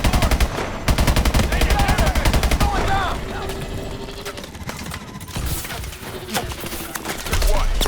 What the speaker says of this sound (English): We're giving them suppressive fire.